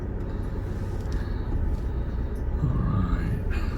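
Jeep Wrangler 4xe creeping off-road on a rocky trail in hill descent control, a steady low engine and tire rumble close by throughout, with no talk.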